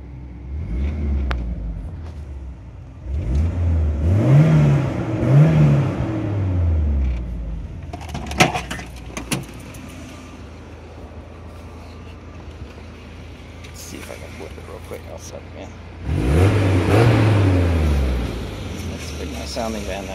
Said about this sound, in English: Oh, that's what the muffler sounds like.